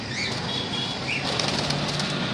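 Small yellow Fischer's lovebirds flutter their wings in quick bursts, a close, busy flapping with faint chirps.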